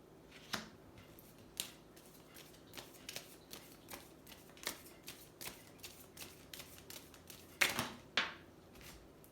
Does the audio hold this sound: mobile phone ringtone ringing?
no